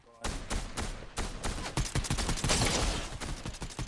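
Sustained bursts of automatic gunfire in the Fortnite battle royale, dense rapid shots fired close and loud for several seconds with little pause, a voice briefly audible beneath the shooting.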